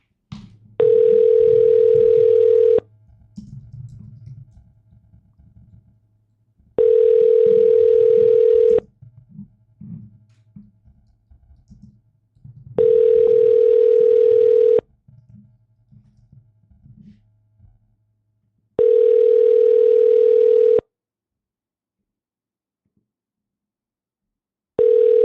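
Phone call ringback tone sounding as a series of long steady tones, each about two seconds, repeating at even intervals with silence and low background noise between them.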